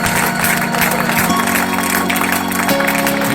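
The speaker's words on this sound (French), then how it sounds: "Je vais l'applaudir." A crowd at a truck show in Laissac applauds Raymond, and the steady, dense clapping fills the whole moment, with a low engine or PA hum running underneath.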